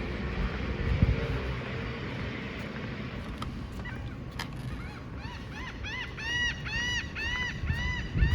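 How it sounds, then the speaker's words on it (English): Outdoor ambience in the Florida Keys with a steady low rumble, then repeated harsh honking seagull calls in short bursts, fairly close and clear near the end. "Except for that seagull."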